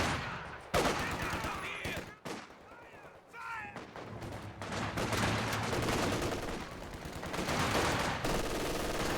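An MG42 machine gun in a World War II strategy game fires in sustained bursts among artillery blasts and battlefield noise, with a caster talking over it.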